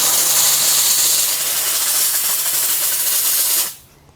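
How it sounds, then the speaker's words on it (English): Steam jets onto a stubborn wood glue joint with a loud, continuous close hiss that cuts off abruptly near the end. "Put a little bit more steam on this."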